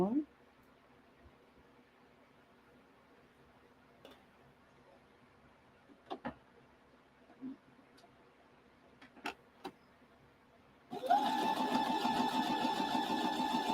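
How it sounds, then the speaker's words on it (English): A sewing machine chain sewing quilt blocks: after a quiet stretch of scattered small ticks and clicks, the motor starts up and runs in a steady, loud whir right at hand. "I'm doing what they call in chain sewing"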